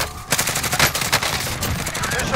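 Automatic gunfire in Call of Duty: Modern Warfare rattles in loud, rapid bursts of close shots that continue almost without pause.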